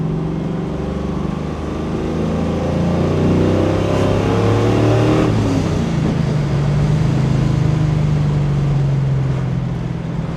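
A 1969 Ford Mustang Mach 1 with a 427 side oiler V8 accelerates from inside the car, its deep engine drone climbing through the gears and then settling into a steady cruise, loud and continuous with no talk.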